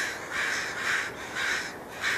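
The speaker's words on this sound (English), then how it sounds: "So my neighbor behind me apparently feeds the crows or the squirrels or something, and then like all these birds just flock to their house," Several crows caw from nearby in a residential backyard area, with repeated loud harsh calls in an uneven rhythm and no talking.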